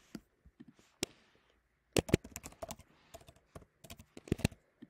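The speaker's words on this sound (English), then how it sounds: "And now you can type your email here." Computer keyboard typing, close and quiet: scattered single keystrokes first, then quick irregular clusters of sharp clicks.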